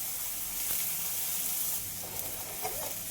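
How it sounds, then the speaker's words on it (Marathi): Ground masala paste crackles and sizzles in hot oil in a pan over a lowered gas flame, a steady close hiss with scattered pops, no talking. "ते तेलामध्ये टाकल्याबरोबर तडतड उडायला लागलं"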